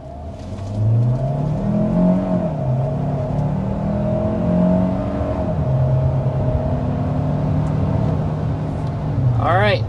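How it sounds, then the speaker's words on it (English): A 2026 Hyundai Santa Fe or Kia Sorento hybrid SUV accelerates hard up to 60 mph, its engine drone climbing in pitch and holding loud and steady throughout, with a brief whirring rise near the end. "Alright, so that was taking it up to 60 miles per hour."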